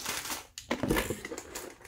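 A plastic bag crinkles and crunches as it is handled inside a mini-brick toy box for a Siberian husky figure, close and loud in short bursts.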